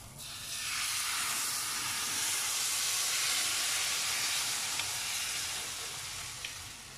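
Rava dosa batter is spread on a very hot griddle and hisses right away, a loud, steady, close sizzle that holds evenly for several seconds and then softens slightly.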